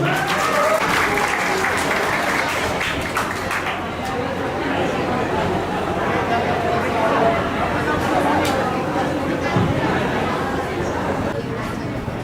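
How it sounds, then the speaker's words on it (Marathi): Loud, sustained applause fills a school reunion hall as the audience claps to welcome attendees, with crowd chatter mixed in throughout. "तुमच्या सगळ्यांच्या स्वागतासाठी पण जोरदार टाळ्या वाजवू"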